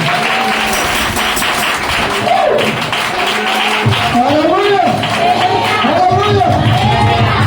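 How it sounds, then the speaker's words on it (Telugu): A church congregation claps loudly and steadily, a dense wash of applause with a voice speaking over it. "గట్టిగా చప్పట్లు కొడుతాం."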